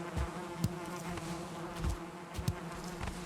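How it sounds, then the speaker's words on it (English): Bees buzz steadily in the Valheim video game, a close, continuous droning hum with soft periodic thumps, heard alone without speech. "Nice loud bees."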